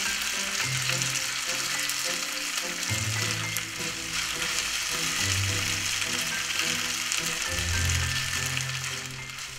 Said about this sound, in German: können wir auch schon mal eine Pfanne mit Butter bestücken, weil dort werden wir nachher die Spätzle anbraten bzw. wieder erhitzen